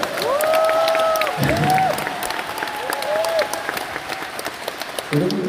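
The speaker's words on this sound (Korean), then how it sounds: "뜨거운 박수 한번 부탁드립니다" A concert hall audience applauds warmly at a talk segment of a tour show in Busan, with steady loud clapping throughout and whistle-like tones rising above it.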